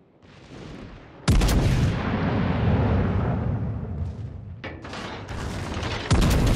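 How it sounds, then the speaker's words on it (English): Heavy warship guns firing in a naval battle game, a loud booming blast followed by a long rumbling roar, then a second salvo near the end. "Concentrate fire on the enemy warship."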